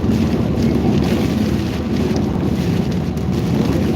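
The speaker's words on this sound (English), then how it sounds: "we're back up to 40 or 50 mile an hour gusts across the interstate here." Strong storm wind gusts of 40 to 50 mph buffet the microphone beside an interstate in Tennessee, a loud, steady roar of wind noise with low rumble throughout and no speech.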